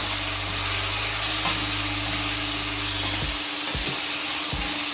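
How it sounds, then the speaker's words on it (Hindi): Chopped pumpkin with turmeric, sea salt and black salt sizzles steadily in a pan over a medium-low flame, a continuous close frying hiss with a low hum that cuts out near the end, leaving a few soft scraping stirs. "मीडियम लो फ्लेम पर इसे इस तरीके से रेगुलर चलाते रहेंगे 5 मिनट तक"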